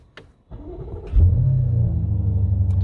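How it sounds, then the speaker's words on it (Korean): A BMW M8 Gran Coupe fires up after a short whir and click, catching with a loud burst that settles into a deep, steady idle rumble close by. "시동을 걸어 볼게요"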